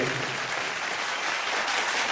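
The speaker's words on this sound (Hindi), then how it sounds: "मैं चाहूंगा एसपी साहब के लिए जोरदार तालियां," An awards-show audience applauds loudly and steadily, a dense, close burst of clapping that fills the whole moment.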